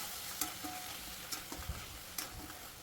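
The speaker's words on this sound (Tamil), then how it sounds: "இப்போ தக்காளியும் நல்லா சாஃப்ட் ஆகுற அளவுக்கு நல்லா வதக்கி விடணும்." Tomatoes and onions sauté in a pan, a steady low sizzle running throughout with a few sharp clicks and scrapes of stirring scattered across the short stretch; no one speaks.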